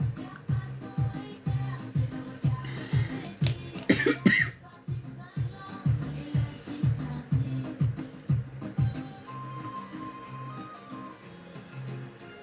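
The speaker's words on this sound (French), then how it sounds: "j'ai pas fini de tousser." A person coughs repeatedly in a steady series of rough, close bursts, with a brief throat-clearing, continuing for several seconds.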